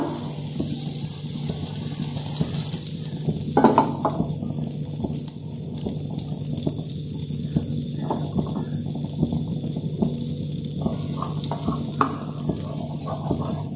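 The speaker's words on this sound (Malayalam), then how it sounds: "അതിനകത്തോട്ടേക്ക് കുറച്ച് ബട്ടർ ഇട്ട് കൊടുക്കാം" Butter sizzles steadily in a hot pan, a continuous bright hiss with brief louder crackling spurts, close and alone.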